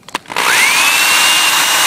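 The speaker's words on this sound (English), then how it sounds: "I'm going to pre-drill these two holes." A power drill pre-drills holes for a pool fence gate latch, spinning up after a few brief clicks into a loud, steady high whine held close to the microphone.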